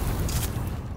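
A grenade explodes in the video game Destiny 2, a brief loud low boom that rumbles and fades within about a second.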